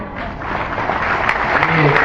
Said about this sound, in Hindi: ये तालियां आप अपने लिए बजा रहे हैं, जोर से बजाइए।